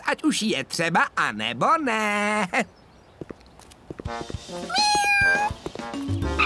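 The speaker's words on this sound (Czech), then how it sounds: "Ach ne, uvězněné kotě." A trapped kitten meows in an animated children's cartoon about brave little cars: several high, drawn-out meows come near the end, following a stretch of lively character speech and a brief quiet pause.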